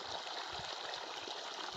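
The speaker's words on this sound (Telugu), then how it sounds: "చూడండి నీళ్ళు అనేది వచ్చాయి." Water gushes steadily from a newly drilled borewell on dry farmland in summer, a continuous close rushing and splashing with no talk.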